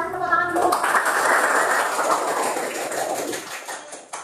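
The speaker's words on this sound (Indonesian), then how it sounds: "Ayo, kita kasih tepuk tangan dulu." Children in a sixth-grade primary school classroom clap together after a teacher's prompt, a burst of many small hands that swells, holds for a few seconds and fades, following a brief stretch of speech.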